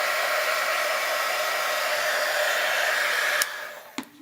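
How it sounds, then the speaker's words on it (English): A steady whooshing blower hum from a heat gun or hair dryer runs loudly over vinyl, then cuts off abruptly followed by a couple of small clicks. "Use your hair dryer or your heat gun."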